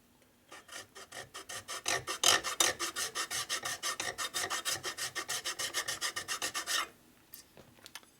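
A coarse file rasps across epoxy and aluminum on a part from a 1977 Sportster 1000cc Ironhead engine. Around forty quick, even back-and-forth strokes sound close and clear, then stop abruptly.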